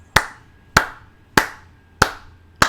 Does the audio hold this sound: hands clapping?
yes